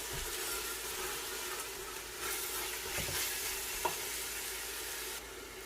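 Ground ingredients are mixed in a pan for Punjabi kadhi pakora, giving a constant soft frying hiss with light stirring scrapes and one small clink, close and even, with no talk.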